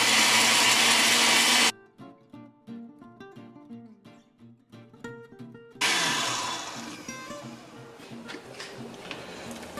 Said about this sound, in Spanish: nomás es una poca para que me ayude a licuar, para que las aspas agarren el chile